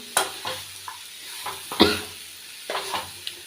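Mango pickle is stirred in a pan: several distinct scraping and clacking strokes of a spoon, spaced irregularly over a light sizzle, close and without voices.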